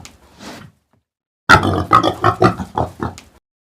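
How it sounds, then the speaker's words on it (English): Pig grunting and oinking in a farm-animal setting: a faint low grunt, a pause, then a louder run of about five short, close oinks in quick succession, with no talk. "oink, oink. Pig, ẹlẹ́dẹ̀."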